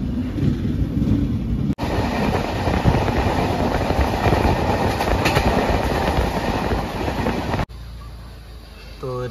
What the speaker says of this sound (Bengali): আমাদের ট্রেন ছেড়ে দিয়েছে বঙ্গাইগাঁও স্টেশন থেকে।